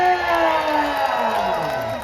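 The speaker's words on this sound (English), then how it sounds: "Let's hear a practice cheer for the red side." Outdoor Canada Day celebration crowd cheering in a practice cheer, a dense sustained roar of voices and whoops from many people, loud and steady throughout.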